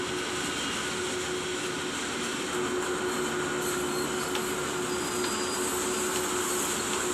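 A freight train running in Train Sim World, with a steady loud rumble and a constant engine drone plus a thin sustained tone, continuous and unchanging throughout.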